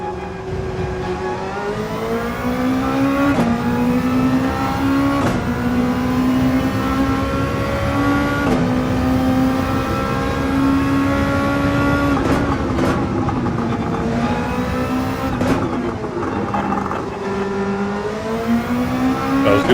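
A Lexus RC F race car engine in Gran Turismo 7 holds a loud, continuous drone that rises and falls through repeated gear shifts, close and steady over the whole stretch with no talk.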